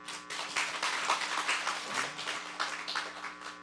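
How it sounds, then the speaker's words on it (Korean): Applause from a church congregation at a team leader training session, a steady, dense patter of many hands clapping throughout, fairly soft and distant. "한번 서로를 위해서 박수 한번 보내주십시오."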